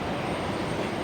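An Airbus airliner comes in to land at Raleigh-Durham airport, heard as a steady, fairly faint wash of jet engine noise for about a second.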